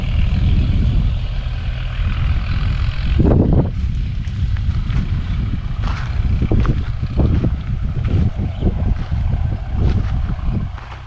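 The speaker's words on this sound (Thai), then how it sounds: "ตอนนี้เขากำลังไถ สวนของไร่โอ๊ตขาเหล็กครับ นำรถไถมาปรับดิน" A tractor plows and levels soil in a farm field for planting corn, its low diesel engine rumbling continuously and loudly, with irregular clanks and thumps from the work and wind buffeting the microphone.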